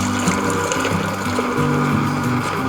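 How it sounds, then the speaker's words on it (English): An ice cream machine churns steadily with a continuous mechanical hum and a liquid, sloshing wash as a vanilla base is poured in, filling the whole stretch with no talk. "I'm going to pour the ice cream into the machine"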